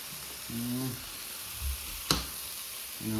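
Hot oil sizzles in a pan for a Madurai-style country chicken (nattu koli) salna, a steady close hiss that runs throughout with one sharp click midway and brief bits of a voice.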